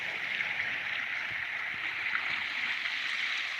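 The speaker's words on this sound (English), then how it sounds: "Can you guys hear the water?" Water flowing through a stream where branches have dammed it up, a steady soft rushing wash that stays constant and fairly faint outdoors, with no talking.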